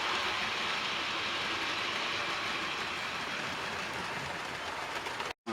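A steady, continuous rumble and hiss of a model train running along its track, with faint rhythmic clatter, fairly close and unbroken until a brief cutoff at the end.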